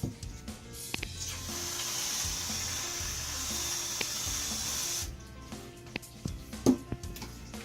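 A steady pressurized hiss sprays for several seconds as whipped cream from a can tops a homemade chocolate chip frappuccino, then cuts off, followed by light clinks and handling noises.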